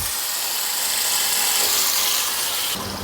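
Chutney mixed with water hits hot oil in a kadai, giving a loud, steady, broadband sizzling hiss that runs almost unbroken and cuts off near the end.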